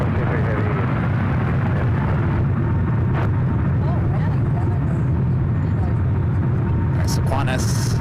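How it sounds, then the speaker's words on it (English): An Emirates jet rolls for takeoff on runway 28 Left at San Francisco airport, a loud continuous engine roar that stays heavy throughout, with a voice talking over it. "Emirates was allowed to take off on 28 left"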